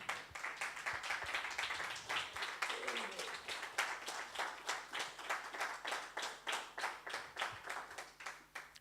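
A church congregation claps together in a steady, quick rhythm for the Lord during a worship service, the beats even and sustained throughout, with a voice briefly rising above them.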